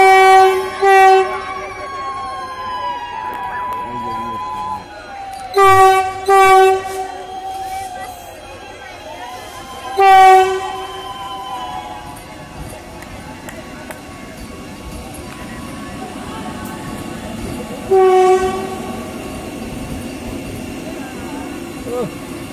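A Vande Bharat train at its opening run sounds its horn in several loud, long blasts, with rumbling between them. A crowd's voices carry underneath.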